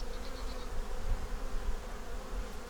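Honey bees swarm and buzz around an opened hive being checked for the queen after a storm, a steady, dense, close hum that runs without a break and with no talking.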